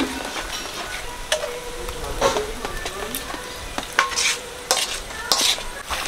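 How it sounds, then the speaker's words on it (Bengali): Palm fruit fritters fry in a pan of oil as a utensil stirs and scrapes them, producing a low steady sizzle broken by several sharp metallic clacks, close by with no speech. "তালের বড়া ভাজা হয়ে গেছে, তুলে নিচ্ছি এবারে।"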